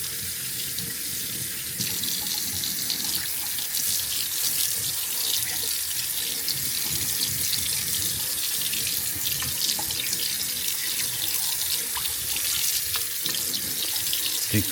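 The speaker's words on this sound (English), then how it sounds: "Okay, so let's rinse" Tap water runs continuously into a stainless steel sink as it is rinsed, a steady close splashing hiss with no pauses throughout.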